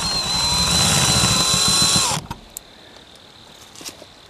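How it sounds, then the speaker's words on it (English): A power drill bores off the head of an aluminum rivet while a 7-inch LED tail light is fitted on an Airstream Safari trailer. There is a loud, steady whirring grind for about two seconds, then it stops abruptly, leaving faint ticks. "But I'm drilling off the head."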